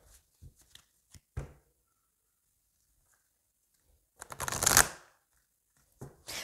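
A mirror oracle card deck is shuffled by hand, with short riffling bursts followed by a longer, louder flurry of cards, close and clear with no talking.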